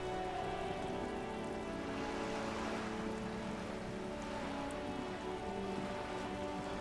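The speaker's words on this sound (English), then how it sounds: "All around you, rain keeps falling down." Steady rain falls in the video game Disco Elysium, a dense, even hiss of drops pattering on wooden boards, continuous and fairly close with no talk.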